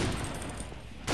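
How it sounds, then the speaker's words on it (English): Gunfire in the video game Painkiller: Redemption, a brief dense burst of shooting that dips and then surges again, loud and close with no talking. "It's just non-stop shooting of people."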